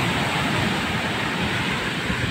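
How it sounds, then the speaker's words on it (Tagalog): Large ocean waves break on a shore in a steady, loud roar of surf with no talking. "yung laki ng alon na yan"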